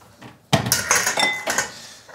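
Dishes, pots and bowls clatter in a home kitchen while a meal of vegetable patties is prepared, with a quiet pause followed by a close, busy run of clinks and clanks of crockery and cutlery.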